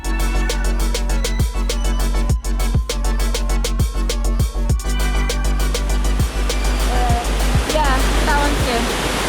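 A waterfall in Lebanon roars as a steady, loud, close wash of spray and mist, with faint clicks and a brief voice-like trill near the end.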